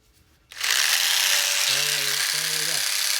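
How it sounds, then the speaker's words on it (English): Craftsman rotary tool fitted with a Dremel jig saw attachment starts up suddenly and runs with a loud, steady high-pitched buzz, with a brief spoken voice over the motor partway through. "Reinstall it onto that Craftsman rotary tool."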